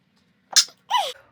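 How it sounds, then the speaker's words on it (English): A single sharp sneeze, a quick inhaled catch followed by an explosive burst, close and clear against a quiet room. "I don't know why I have to sneeze."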